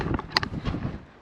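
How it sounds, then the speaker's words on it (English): Gusty wind buffeting an open campground among the boulders at Jumbo Rocks in Joshua Tree National Park, a steady low roar with a short sharper gust midway and no talk. "So it's pretty windy."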